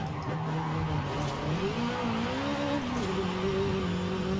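Subaru BRZ in Forza Horizon 5 on a track, engine droning steadily with pitch rising and falling through gear changes, joined by a continuous tyre skid as the car slides around turns.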